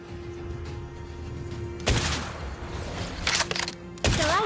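Gunfire from the hero Beatrix in the mobile game Mobile Legends crackles in sudden loud bursts, one near two seconds and a couple more clustered later, over a low steady game hum with a sustained tone early on.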